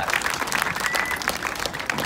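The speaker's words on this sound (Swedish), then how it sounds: "Ge dig en applåd, Åsa Wikfors." Audience applause at a March for Science event in Stockholm, a dense, steady burst of clapping from a crowd that holds at an even level for about two seconds.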